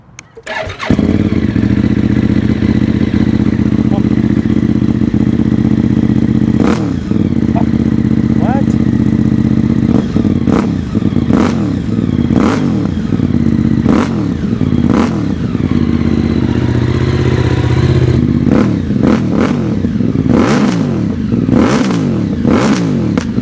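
A Moto Morini X-Cape 1200 adventure motorcycle's V-twin engine cranks and fires close by, settles into a loud, lumpy idle, then is blipped with a series of sharp revs that quicken toward the end.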